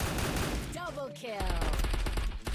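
Rapid bursts of gunfire in the video game Free Fire, loud and dense, with excited voices talking over the shooting.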